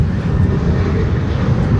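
A Tecnam P2012 propeller aircraft operated by Cape Air, at Chicago O'Hare in strong wind, gives a steady, loud broadband engine roar with no pauses and no talk.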